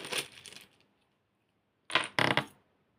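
Two dice rolled and tumbling on a hard surface, a short rattling clatter, then a pause and a second sharper double clatter, close and fairly quiet.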